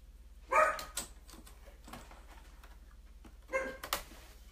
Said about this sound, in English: They bark every time, don't they?